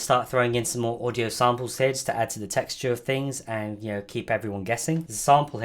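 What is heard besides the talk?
No everyday noises stand out.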